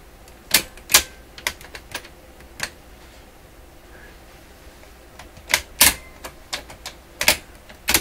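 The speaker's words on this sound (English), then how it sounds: "making sure that the intermediate wheel here is hitting these rollers here appropriately" An Electrohome Chippendale console's intermediate wheel striking rollers, sharp mechanical clicks and taps in irregular clusters, close and crisp against a quiet background.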